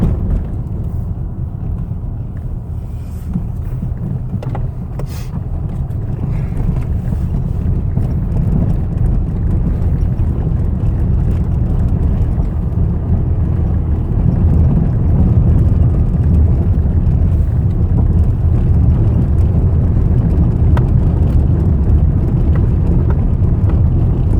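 Steady loud rumble of a Mercedes car driving along a rural road, with continuous low road and engine noise and wind buffeting throughout.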